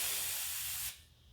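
A spray paint can held upside down to clear the nozzle gives a steady, loud hiss that stops abruptly after about a second, leaving a low background hum.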